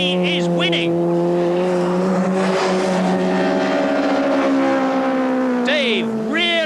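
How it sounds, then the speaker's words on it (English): Cosworth-engined touring cars from a 1989 British Touring Car Championship round scream past at high revs, steady engine tones rising and falling over continuous track noise, with a commentator talking over the racing. "wringing the last ounce of horsepower out of the Cosworth engine"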